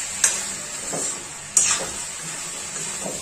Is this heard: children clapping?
no